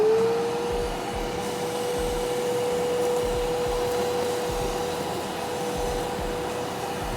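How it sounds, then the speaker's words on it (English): A VEVOR 4-gallon wet/dry shop vacuum runs steadily up close, a loud continuous motor whine over rushing airflow with a faint tonal hum, with no talking. "We're gonna test out the shop vac, see how it does."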